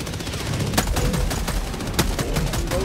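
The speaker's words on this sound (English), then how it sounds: "Oh, there go the mortars." Mortar strikes and gunfire in the video game Helldivers 2, a dense, continuous barrage of sharp blasts with several louder impacts standing out over a steady roar of battle.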